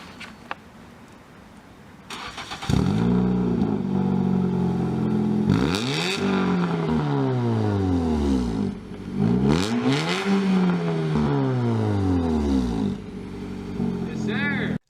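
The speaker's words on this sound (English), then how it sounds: "I'm gonna also play a video of the car of me revving the car" A straight-piped car engine revs repeatedly, with loud rising and falling roars played back from a recording, raw and raspy, with people talking quietly in the room over it.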